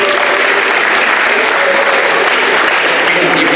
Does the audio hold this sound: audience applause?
yes